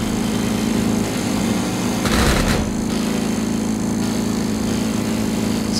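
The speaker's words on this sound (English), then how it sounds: "There's gotta be some way to get the lawnmower to the other side." A lawn mower engine in a video game, running in a steady, loud, continuous drone with a short burst of extra noise midway.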